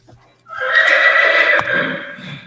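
An 11-year-old grade quarter horse mare at a riding horse sale lets out one loud, close, shrill whinny that holds for about two seconds before tapering into a shuddering fade.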